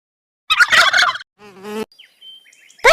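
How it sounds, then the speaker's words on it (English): A turkey gobbles in a short burst of warbling calls, loud and close, followed by sparse chirping from other birds and a sudden strident call at the end. "Turkey."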